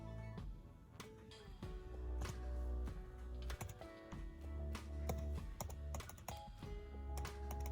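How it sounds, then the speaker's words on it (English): Wi-Fi password tapped out on a computer keyboard, a quick uneven run of close key clicks over a faint background hum, with no one speaking. "I will go ahead and put in this password here"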